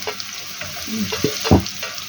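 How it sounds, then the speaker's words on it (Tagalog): Onions sizzle in a hot pan with a steady frying hiss, while a utensil stirs and knocks in short bursts, one louder clatter near the end. "At ilagay ko ng ating sibuyas."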